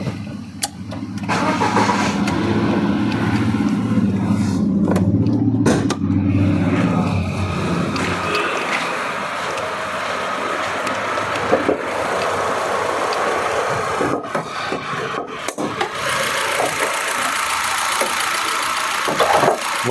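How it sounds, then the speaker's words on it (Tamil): A 2015 Ford Figo Aspire cranks and fires up, its engine roaring loudly for several seconds before settling into a steady idle, with a few brief clunks along the way. "வண்டியோட இன்ஜின் பாருங்கள், இப்போ ஸ்டார்ட்டில் தான் இருக்குது, ரொம்ப ஒரு ஸ்மூத்தான கண்டிஷனில் இருக்குங்க"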